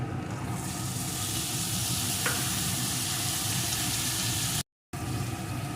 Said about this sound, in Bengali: এখন আমি এর ভিতরে কুচি করে রাখা কাঁকরোলটা ঢেলে দেবো